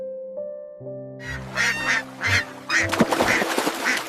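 Several ducks quack in short bursts, fairly close, over a soft musical background with sustained tones.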